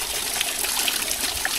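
Water flows and trickles steadily in a clear stream on the Naneghat trek in Maharashtra, a brief, even, close rushing sound with faint splashes and no speech.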